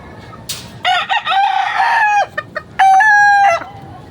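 Pale, anaemic farm chickens cluck in short bursts close by, then a rooster lets out two loud, drawn-out crows with a brief pause between them.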